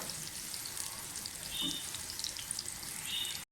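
Onions shallow frying gently in a pan for kachnar gosht: a soft, steady sizzle and crackle with a few brief clinks, fairly quiet and continuous, with no talking.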